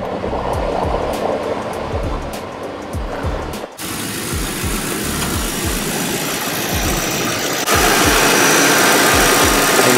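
Car engine idling with the air conditioning on full blast, a close, steady low rumble with a regular pulsing beat and a constant rushing blower hiss that grows slightly louder near the end.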